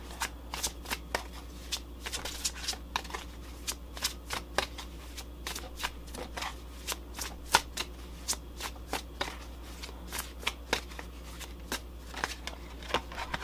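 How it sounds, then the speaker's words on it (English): Tarot cards being shuffled close up, a continuous run of quick crisp riffling snaps at an uneven rhythm over a low steady hum, with no talking. "So I'm going to take a few more cards for you, just to see."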